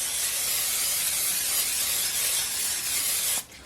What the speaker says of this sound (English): I'm going to give it a thin layer of spray oil.